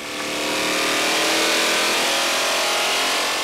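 Ford 5.0L small block stroked to 347 cubic inches revving hard on an engine dyno, a loud, continuous high-rpm roar that holds steady without a break.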